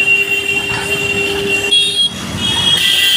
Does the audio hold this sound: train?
yes